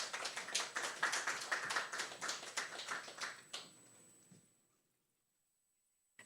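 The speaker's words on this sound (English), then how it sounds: "Let's give a round of applause to Irene Sáenz." Applause from an audience at a book-anthology celebration, many hands clapping steadily and fairly close for about three and a half seconds before thinning out and fading into near silence.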